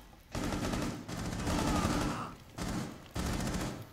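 Rapid automatic gunfire from Rainbow Six Siege, dense sustained bursts that cut out briefly and resume, loud and close with several overlapping shots.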